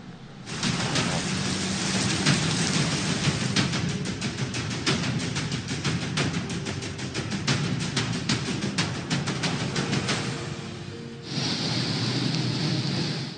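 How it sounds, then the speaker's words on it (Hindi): Heavy monsoon downpour over Lahore streets, a dense, steady roar of rain with rumbles of thunder, loud and close, briefly dropping off before resuming near the end, with no voices. "लाहौर में मूसलाधार बारिश से सड़कें और गलियां ज़ेर-ए-आब।"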